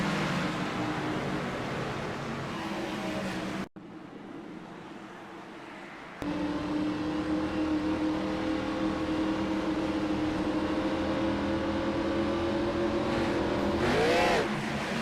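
Race cars in a Victory Fuel 125 race accelerating on track: a steady roar of multiple engines pulling hard, briefly cut out, then returning with a rising whine near the end.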